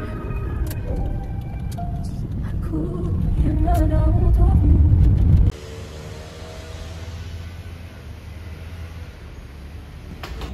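A car being driven to a parking area, with steady low engine and road rumble inside the cabin, louder for the first half and then quieter; people talk over it at the start.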